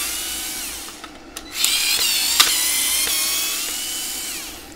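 A power screwdriver whirs steadily while backing screws out of a Nivona 8 series (820/21/25) coffee machine during disassembly, a continuous high-pitched motor whine with slight pitch shifts and small clicks.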